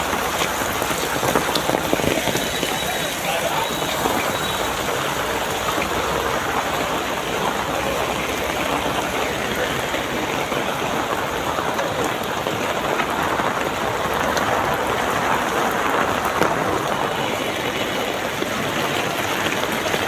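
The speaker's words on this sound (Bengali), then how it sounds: "দেখতে পাচ্ছেন কি হারে বৃষ্টি।" Heavy rain pours down steadily in Narayanganj, Bangladesh, a dense, even roar of drops hitting surfaces that continues without a break.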